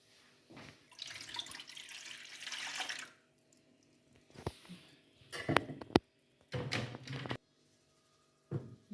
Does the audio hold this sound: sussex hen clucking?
no